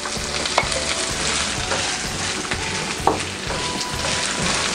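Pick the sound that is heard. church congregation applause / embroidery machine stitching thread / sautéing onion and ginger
sautéing onion and ginger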